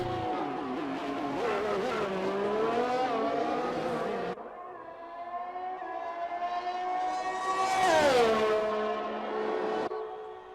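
Sim racing car in a video game on a fast lap at the Austria circuit, engine note sustained and loud, rising and falling through gear changes with a sharp downshift and revving surge near the end.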